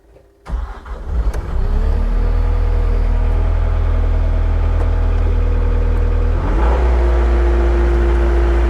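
A machine's engine cranks and starts, then settles into a loud, steady running drone, with a sharp rise in revs near the end as the throttle opens.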